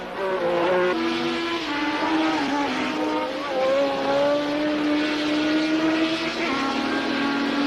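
1970s Formula One race cars screaming around Brands Hatch, high-pitched engines rising and falling in pitch as they accelerate and change gear, loud and continuous with several overlapping cars.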